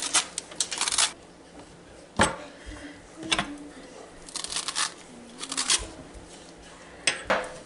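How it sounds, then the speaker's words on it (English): A spoon scrapes seeds from a halved spaghetti squash in a home kitchen, giving repeated short scraping and clinking strokes in irregular bursts, close and moderately loud, with no talking. "Next, we'll get a spoon and scrape out these seeds."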